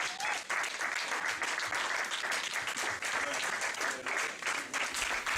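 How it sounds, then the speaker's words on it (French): Church congregation applauding and cheering loudly for the Lord, a dense, continuous roar of clapping and shouts that holds steady for several seconds. "On va acclamer très fort le Seigneur."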